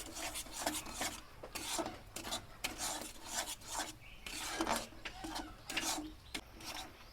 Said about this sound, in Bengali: চিনির সঙ্গে আর তালের সঙ্গে একটু ভালো করে মিশিয়ে নেব